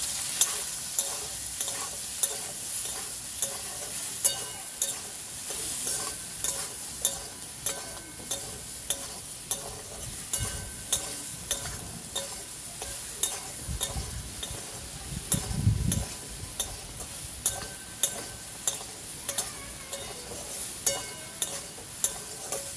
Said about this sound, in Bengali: এই দেখুন বন্ধুরা, সয়াবিনগুলোকে আমি লাল করে ভেজে নিয়েছি